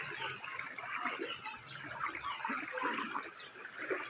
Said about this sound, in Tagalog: lakas ng tubig, oh